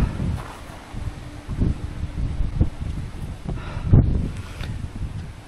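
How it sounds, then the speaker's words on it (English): Strong, gusty wind outdoors in a garden, buffeting the microphone with low rumbling surges and some rustling, rising and falling throughout with one stronger gust near the end and no speech. "It's incredibly windy still."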